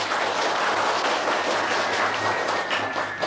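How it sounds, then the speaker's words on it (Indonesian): An audience at an Islamic gathering in Jogja applauds a speaker with steady, continuous clapping, dense and fairly close, alongside a low background hum. "Tepuk tangan untuk beliau."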